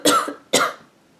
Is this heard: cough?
yes